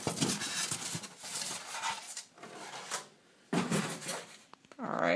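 Cardboard box for an A&K Masada ACR airsoft rifle being opened: scraping, rubbing and flap-handling rustles in close, uneven bursts, with a short pause before more handling.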